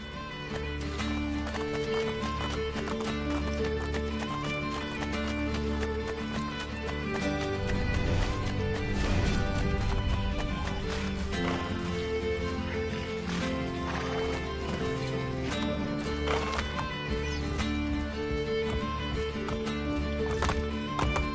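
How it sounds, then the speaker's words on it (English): A horse in Assassin's Creed Brotherhood gallops with a steady, driving clip-clop and whinnies now and then, all layered over a continuous music and ambience bed from the game. "I have lost his favorite horse."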